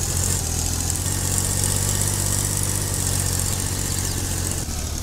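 Tractor engine from Farming Simulator 22, an Indian-mod Swaraj 855 stuck in a ditch with a trolley, runs at a steady idle throughout, with a low rumble and a constant hum.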